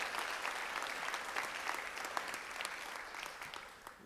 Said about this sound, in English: Give him a round of applause just at the mention of his name.